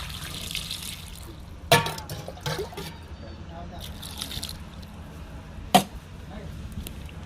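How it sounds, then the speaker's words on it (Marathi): Potatoes washed under a running kitchen tap, a steady trickle of water with a couple of sharp knocks and splashes as they are handled in the sink. "बटाटे धुवून घेतो पहिले."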